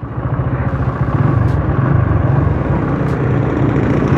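Honda GL100 motorcycle ridden at night, a steady close engine drone with pulsing low rumble and wind buffeting, two faint higher hisses passing briefly, no talk.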